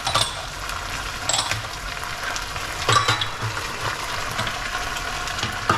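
Pineapple sauce sizzles and thickens in a pan, a soft, steady frying hiss broken by a few sharp clicks and scrapes as it is stirred.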